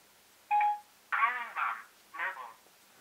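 Smartwatch connected to a phone placing a call: a short electronic tone, then a few brief garbled synthetic voice-prompt bursts from the small speaker, fairly faint and close.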